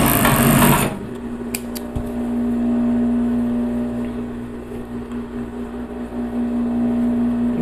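Sewing machine stitching elastic onto the side of a bikini bottom, a steady mechanical hum with a sharp burst at the start, running continuously and close by with no talking.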